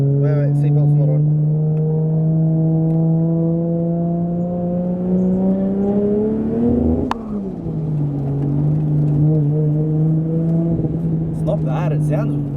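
A turbocharged 2JZ-swapped Nissan S15 Silvia with a 4-inch straight exhaust drones loudly and close, its revs climbing slowly, dipping sharply midway, then holding steady again.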